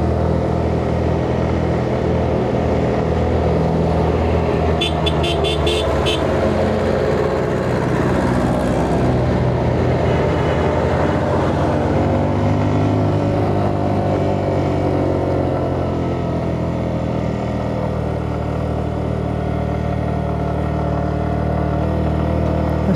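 A car engine labours up the steep final stretch of road to Sajek Valley, a steady loud drone held at high revs throughout, with a brief clicking rattle partway through and no voices.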